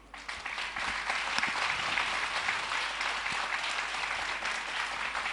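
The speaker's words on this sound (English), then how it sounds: "Please give a huge round of applause." An audience at a school annual day for kindergarten pupils claps in sustained applause, a dense, even patter of many hands that starts quickly and holds steady without voices.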